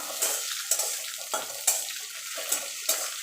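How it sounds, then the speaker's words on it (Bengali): Garlic, green chillies, dried chillies and black cumin fry softly in hot oil, with a quiet sizzle broken by about half a dozen sharp scraping strokes of stirring in the pan, and no one speaking. "এবারে এটাকে একটুখানি ভাজা ভাজা করে নেব।"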